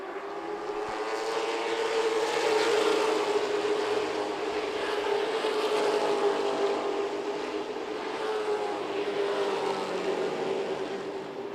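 Race cars roar around the Myrtle Beach Speedway oval during a stock-car event, a loud sustained engine drone with steady pitch that swells and eases slightly as the pack passes, with no talk.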